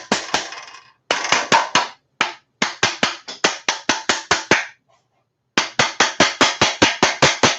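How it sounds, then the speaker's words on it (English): A hammer taps repeatedly on a 1.8T engine during sealing work, with sharp close metallic strikes in quick even runs separated by brief pauses. "A little love tap here."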